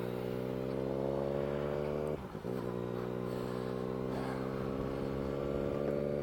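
A 2020 Yamaha Tracer 900 motorcycle with an aftermarket exhaust drones steadily while ridden, its low engine note constant, with a brief dip and shift of pitch partway through.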